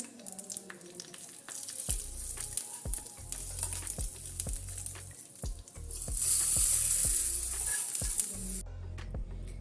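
Hot oil sizzles and crackles loudly as a fried mustard-seed tempering is poured in, the hiss swelling midway, with repeated low knocks underneath and no talking.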